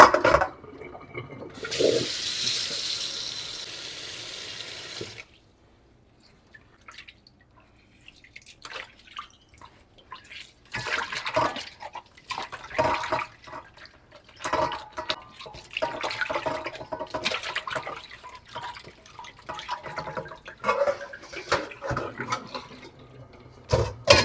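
Water running from a tap as a scaled and cleaned fish is rinsed for Jamaican roast fish, a burst of flow at first, then intermittent splashing and dripping close by.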